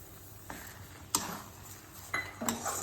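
A utensil scrapes and clinks against a pan while sugar is stirred into thick puliyotharai tamarind paste, in a few distinct, fairly quiet strokes.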